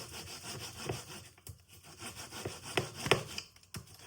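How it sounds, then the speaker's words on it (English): Fresh corn kernels rasped off the cob on a hand grater, a steady scraping rub with sharper strokes scattered through, close and fairly quiet. "Be careful when you grate the corns"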